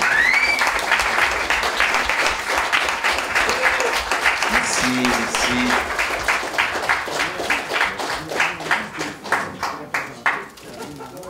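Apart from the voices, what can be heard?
audience applause for two pioneering filmmakers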